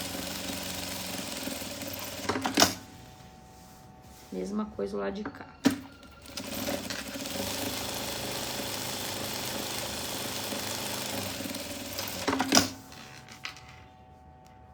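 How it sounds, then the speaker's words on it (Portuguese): Sewing machine stitching close along a zipper with a zipper foot on a patchwork makeup bag, a near mechanical hum with bursts of rattling stitches and a few sharp clicks, while someone speaks briefly in Portuguese. "E faço uma costura bem junto com a cremalheira, com o meu pé de zíper"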